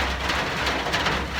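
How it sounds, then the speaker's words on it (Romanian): Light rain falls steadily outdoors in Bolivia, a continuous soft, even hiss with no voices. "plouă un pic"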